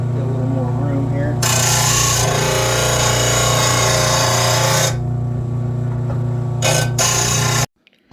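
A grinder sharpens a Toro lawn tractor mower blade, giving harsh bursts of grinding between a steady motor whine. Two short contacts follow near the end before it cuts out abruptly.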